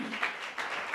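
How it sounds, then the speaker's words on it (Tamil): Church congregation applauding with a diffuse, steady wash of hand claps, moderately loud and close, rising in small surges through the short moment with no one talking over it. "நல்ல கைத்தட்டி தேவனுக்கு நன்றி சொல்லுவீங்களா?"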